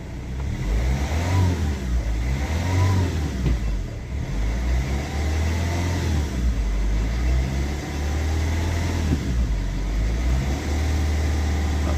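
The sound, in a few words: Rover 75 CDT engine revving through the gears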